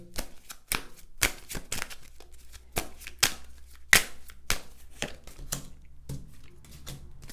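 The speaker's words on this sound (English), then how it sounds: "I'm going to shuffle these cards" Tarot cards are shuffled by hand in a run of sharp, irregular slaps and riffles, close and fairly loud, with no voices.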